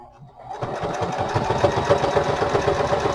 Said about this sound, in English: I'm just going to run a little zigzag along that